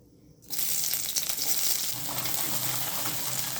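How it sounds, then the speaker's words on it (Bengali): Onions and green chillies hit hot oil in a pan for pasta, bursting into a loud, steady sizzle after a brief quiet start and frying on continuously. "এবার পেঁয়াজগুলো ভেজে নেব, পেঁয়াজ আর কাঁচা লঙ্কা"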